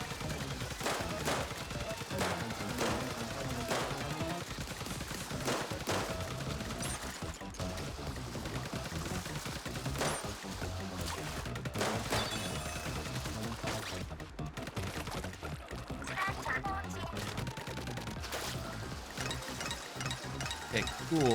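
Dense, continuous weapon fire from Splatoon Raiders, the co-op shooter game, with rapid repeated shots rattling nonstop across the whole stretch, a voice occasionally talking underneath.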